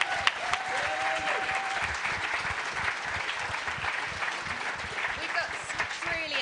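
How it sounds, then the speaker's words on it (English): A crowd claps at a disability charity awards ceremony, sustained applause under whoops and cheering voices. "I think it's time for a big round of applause."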